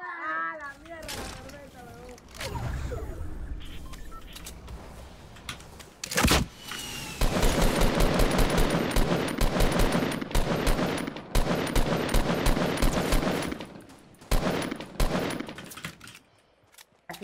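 Gunfire in the battle royale game Fortnite comes as rapid automatic bursts and single loud shots, close and dense in the second half, while young players talk excitedly over the action.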